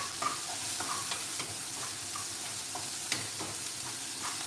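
Onions sizzling and being stirred in a hot pan over medium-high heat, a steady frying hiss with soft scraping stir strokes recurring every half second or so, no voices.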